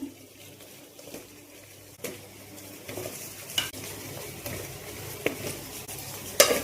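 Brinjal and peeled white pumpkin sauté in oil in a pan, a soft, continuous sizzle broken by occasional stirring scrapes and clinks of a spoon against the vessel.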